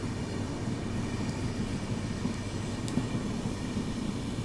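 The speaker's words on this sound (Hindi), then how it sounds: "तिरुपति रक्सौल एक्सप्रेस।" The Tirupati Raxaul Express rumbles past on the rails, a steady loud wash of wheel and carriage noise with a faint metallic clank near the end.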